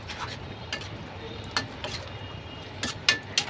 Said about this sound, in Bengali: আবারও নাড়াচাড়া করে নিচ্ছি